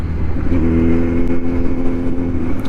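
A Kawasaki Z90 motorcycle being ridden, its engine holding a loud, close, steady droning hum with layered harmonics throughout. There is no talking.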